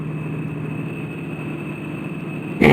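Car engine idling in a Roblox game, a steady low hum with a thin high tone, ending in a sudden louder burst of noise.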